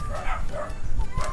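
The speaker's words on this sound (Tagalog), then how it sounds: "Naku, nandiyan yung mga aso." Several dogs give short, sharp barks, three or four yaps in quick succession close by, over a low outdoor background.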